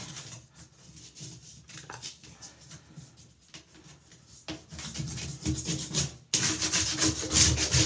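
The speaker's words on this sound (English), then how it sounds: "when you're using a plastic scraper like this, you want to be sure it's not cracked" A plastic scraper scrapes over a bathtub surface in repeated rasping strokes, close and alone, growing louder and harsher toward the end.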